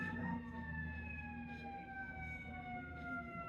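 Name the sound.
fire truck siren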